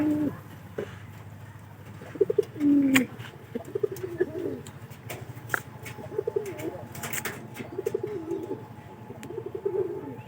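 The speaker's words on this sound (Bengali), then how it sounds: "আর এই যে কয়েকদিন ধরে তাকায় দেখতেছি যে কবুতর কিন্তু বেশি নামতাছে।" Several pigeons coo in soft, repeated rolling calls against a steady low background hum, with occasional faint chirps and light clicks nearby.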